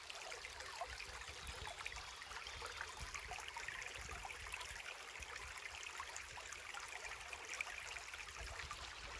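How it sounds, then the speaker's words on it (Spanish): A stream of water flows continuously in a steady, soft rushing trickle, faint and even throughout with no voices. "Simplemente disfruta del sonido del agua."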